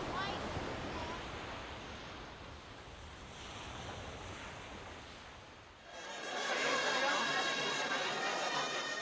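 Sea waves wash onto a beach on the Costa Dorada in Tarragona, a broad steady surf roar that dips briefly and then returns louder and brighter, with wind noise over it.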